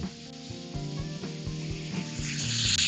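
Asparagus sautéing in a hot pan gives a steady close sizzle and crackle that builds slightly louder toward the end, with soft tapping thumps at a regular pace underneath.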